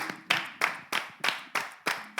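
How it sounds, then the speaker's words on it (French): Seven evenly spaced claps land in a steady rhythm, sounding faint and slightly distant, as listeners of a radio show clap along in unison in praise of a music track. "Applaudissez la trace pour moi"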